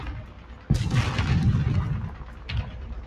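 T95 tank cannon fire in a video game: two heavy booms, the first sharp and loud with a rumbling tail, the second a smaller blast about two seconds later.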